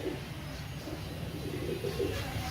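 Pigeons coo in low, soft repeated rolling calls over a steady background hiss, close by and moderately quiet, with no one speaking.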